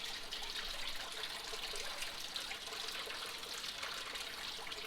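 Water running steadily over a gold prospecting sluice table at the Yuba River, a continuous, fairly faint trickling wash with no voices.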